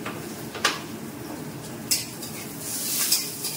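Pointed gourd (potol) frying in oil in a pan, a soft steady sizzle broken by a few sharp clinks of a utensil against the pan, rising slightly toward the end.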